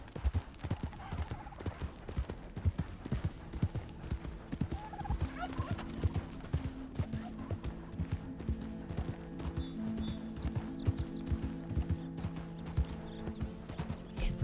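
Steady hoof clip-clop from a horse in the video game Red Dead Redemption 2 keeps a regular walking rhythm, with mechanical game-like tones humming beneath and faint background sounds.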